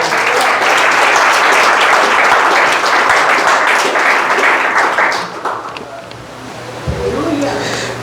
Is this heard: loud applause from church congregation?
yes